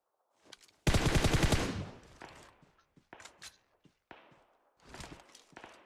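Rapid burst of automatic gunfire in a video-game firefight, loud and close, followed by scattered single shots and thuds; no talking.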